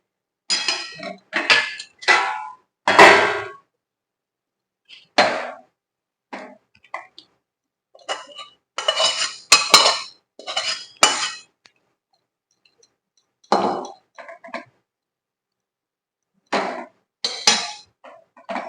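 Chilli vegetables with chicken are scooped from a pan into a bowl, giving short bursts of metal and ceramic clinks and scrapes separated by quiet pauses.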